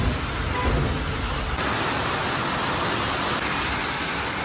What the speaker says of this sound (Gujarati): અને હજી વરસાદ ચાલુ જ છે